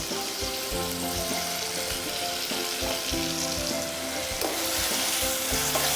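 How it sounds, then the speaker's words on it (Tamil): Tomatoes fry in a pan with turmeric powder and salt for a Chole Bhature gravy, giving a steady loud sizzle with repeated scraping stir strokes throughout, and nobody speaking. "தக்காளி போட்டுட்டு லைட்டாக டர்மரிக் பவுடர், சால்ட்டு போடு,"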